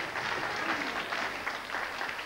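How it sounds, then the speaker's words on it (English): Crowd applause at a televised World of Sport professional wrestling bout, a steady wash of clapping from the audience filling the hall, continuous and moderately loud throughout. "Nice to hear applause from the crowd there for great moves by both men here."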